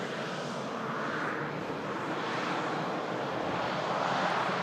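A Jet2 airliner at Manchester Airport roars steadily and loudly, a broad continuous engine rush with wind buffeting the microphone, holding strong throughout without fading.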